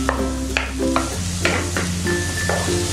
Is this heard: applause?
no